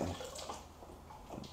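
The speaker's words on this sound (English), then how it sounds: "I will pump out that water, as much water as I possibly can" Water being pumped out of a 75-gallon saltwater aquarium with a small vacuum, a steady close rushing and gurgling flow that runs throughout without a break.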